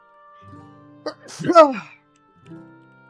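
A single sharp sneeze from a player at a tabletop role-playing game session, close and sudden, framed by quiet talk before and after.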